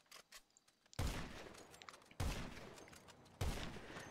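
Three loud, sharp gunshots ring out at regular intervals of just over a second in GTA Online, each followed by a decaying tail, over faint background game sounds.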